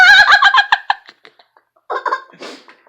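A pet bird giving a burst of rapid, laugh-like gobbling calls up close, trailing off into scattered chirps, then a second shorter squawking burst after a brief pause.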